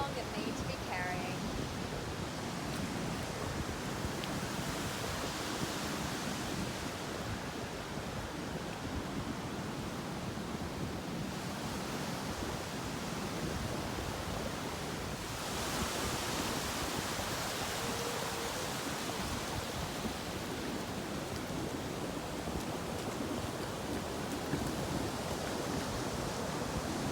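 Ocean waves wash onto a shore in a steady, full rushing roar that swells slightly at a couple of points, with no clear voices over it.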